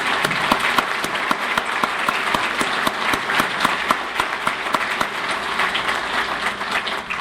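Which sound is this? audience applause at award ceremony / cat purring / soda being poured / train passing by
audience applause at award ceremony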